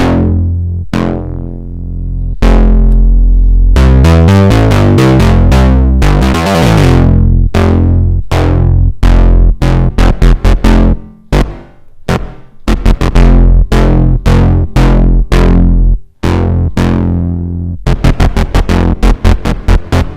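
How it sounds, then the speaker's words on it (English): A thick, distorted synth bass pumps in choppy rhythmic bursts, with smeared, glitchy reverb tails fluttering between notes, loud and up front. "we're getting weird artifacts on the reverb."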